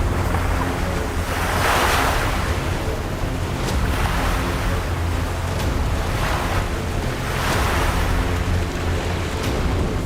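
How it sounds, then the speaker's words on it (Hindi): Rough sea waves surge and crash near an island, heard from a boat with steady loud wind buffeting the microphone and rhythmic swells rising and falling throughout. "टापू के और करीब पहुंचे तो समंदर की हलचल और तेज होती गई।"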